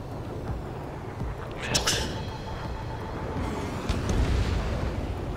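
Missiles explode in the air combat game Ace Combat 7: a sharp blast rings out, and a second, deeper rumbling boom follows a couple of seconds later, both over a constant roar of background noise.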